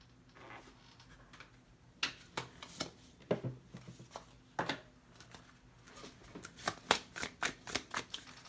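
Tarot cards are shuffled and drawn close by. Soft rustling comes first, then a run of crisp, irregular snaps and flicks that speed up toward the end, quiet and with no speech.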